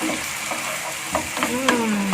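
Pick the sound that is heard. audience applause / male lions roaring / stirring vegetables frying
stirring vegetables frying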